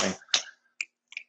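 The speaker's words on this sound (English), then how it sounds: "I gotta do the clapping thing." A hand clap marking a restart during a talk show recording, sharp and close, followed by a couple of softer, quick claps, with no talking.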